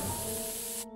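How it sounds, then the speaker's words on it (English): A burst of pepper spray from a can in the South Park: The Stick of Truth video game, a steady loud hiss lasting nearly a second, then cutting off abruptly. "I will pepper spray you back to the Stone Age"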